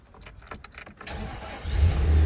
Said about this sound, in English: I gotta go start the engine up to get the alternator test.